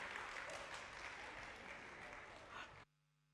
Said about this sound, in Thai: ปรบมือให้ปันนี่หน่อยค่ะ